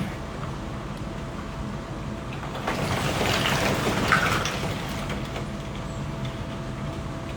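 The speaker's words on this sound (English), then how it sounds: "Let me go ahead and go under the water." A person plunges under the water of a cold ice bath, a steady wash of sloshing and churning water that swells for a few seconds before settling back to a constant rushing background.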